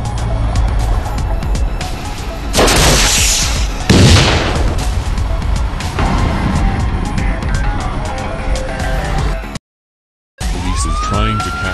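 Video game gunfire aimed at a gang boss's car, with a dense roar of shots and engine noise. Louder bursts and booms break through around the middle, then a short drop to silence before the din resumes.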